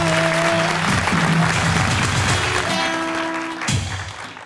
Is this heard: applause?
yes